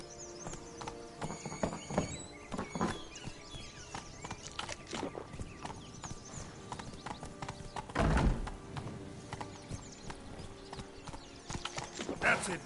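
Roach, a horse in The Witcher 3, gallops in a steady rapid clip-clop of hooves with an occasional whinny and a louder burst of movement near the middle, sounding close and continuous.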